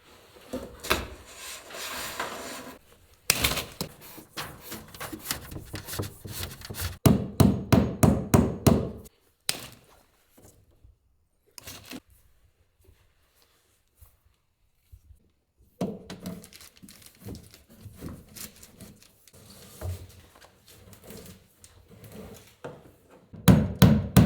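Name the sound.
hammering nails into wood cabin wall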